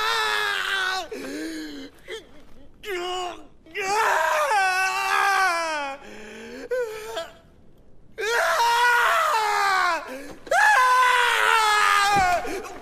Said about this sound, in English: he just goes outside and just screams